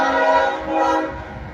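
A freight train's horn sounds loud and steady near the tracks at Augusta, one long sustained chord that swells slightly and fades a little toward the end.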